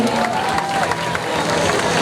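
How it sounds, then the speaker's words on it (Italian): Spectators at a palio cheer and applaud a contrada, a steady dense crowd roar with scattered clapping that fills the outdoor space throughout. "pubblico, applaudiamo questa contrada che deve ancora portare ragazzi!"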